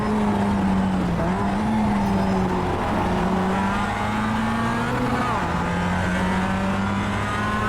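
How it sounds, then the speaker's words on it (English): A full field of Mazda MX-5 race cars in the iRacing video game, with a steady buzzing engine drone from the player's car over a swarm of nearby cars and faint tire noise, loud throughout. "Sound like a swarm of hornets, these Mazdas, when they're in"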